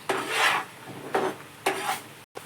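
A spoon scraping and stirring a thick peanut barfi mixture in a pan over medium heat, three long rasping strokes against the metal bottom, close and distinct, with no talk.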